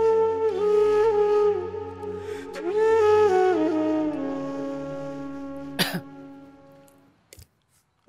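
A person gives a drawn-out, voiced cough and throat-clearing, strained and close, with a couple of sharp catches toward the end before it fades to quiet.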